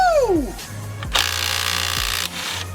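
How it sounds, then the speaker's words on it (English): A right-angle power ratchet whirs in short mechanical bursts during a Hyundai Kona brake job, close by in a workshop, with a voice exclaiming briefly at the start. "Woo, power tools, baby. Makes everything so much easier."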